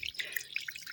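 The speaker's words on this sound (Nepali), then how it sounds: "पहाडमा यसरी पानी आउँछ धारामा" Water running from a pipe spout in the hills, a quick patter of bright drips and splashes close by, steady for a moment with no voices.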